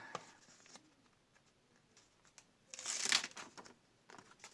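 A paper surprise packet is torn open, a short burst of crinkling and ripping paper near the microphone after a few faint rustles in a quiet room.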